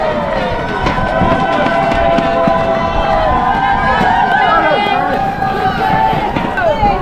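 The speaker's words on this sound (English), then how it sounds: "Lots of crowd support around here. Lots of people out, giving us their best." Spectators along the Cambridge Half Marathon route in the town centre cheer and call out to passing runners, a steady loud hubbub of voices and clapping close by, with footsteps and outdoor bustle underneath.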